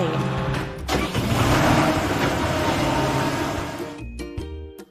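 A cartoon car in a kids' construction vehicle game drives along with a steady engine hum, layered with bright game music and effects that break off into short chimes near the end.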